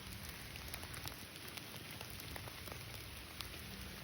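Steady patter of rain falling outdoors during a walk, a soft continuous hiss with scattered drop ticks, fairly quiet and even throughout.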